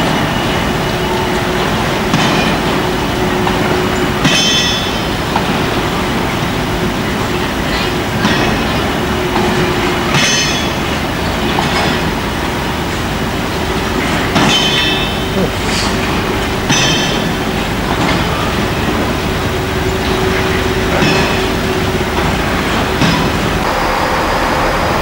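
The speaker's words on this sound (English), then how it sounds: "Clunking you can hear is when the wheels go over a dip in the rails over that side." A train rolls past on rail near Banbury, Didcot and Oxford with a continuous heavy rumble, wheels clunking at intervals over a dip in the rails, and occasional squeals above the steady roar.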